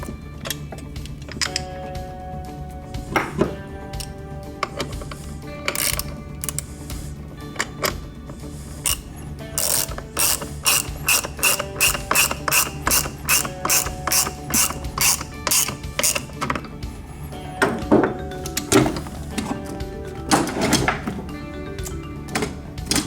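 Ratcheting of a hand tool driving the airbag screw into the base of a Grammer MSG75 seat, with repeated quick clicking bursts, the densest run mid-clip, plus occasional metallic clunks close by.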